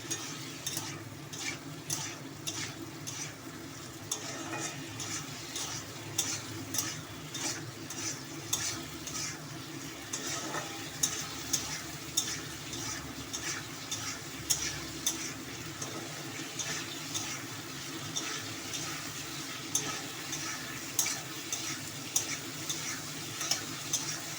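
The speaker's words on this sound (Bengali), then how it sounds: "দিয়ে মশলাটা আমি আরও একবার কষাবো" Spice paste for a fish curry stir-fries in a pan with a splash of water, a continuous close sizzle broken by frequent sharp scrapes and taps of the stirring utensil, no voices.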